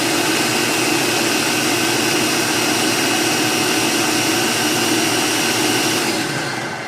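A blender whirs loud and steady, mixing a thick caramel chocolate protein pudding, with a continuous motor drone running unbroken before it begins to fade slightly at the end.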